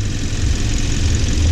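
A 2013 Hyundai Sonata 2.0 GDI turbo engine runs at a steady idle under an open hood, a continuous low rumble with a hissing wash on top, close and loud throughout with no talk.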